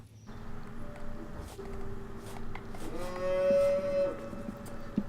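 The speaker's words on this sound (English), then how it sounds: "See, that cow does sound mad," A cow moos in the video game Rising World, several drawn-out lowing calls with a slight echo, the loudest and longest near the end, over a steady low ambient hum with no talking.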